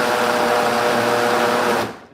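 A vacuum blender whirs steadily as it chops vegetables such as carrot, a loud continuous motor drone that cuts off and winds down at the end.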